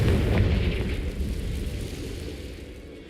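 Confringo blasting curse from Hogwarts Legacy, a loud burst opening into a rushing, crackling rumble that slowly fades away.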